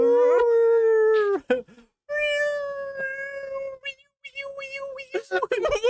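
A voice imitates a whale call with long, rising and falling wailing moans, loud and close, broken by short pauses.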